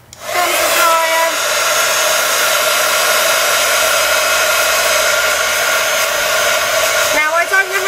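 A hair dryer blows steadily at close range, a loud continuous whirring hum that starts abruptly and runs for several seconds before shifting briefly near the end.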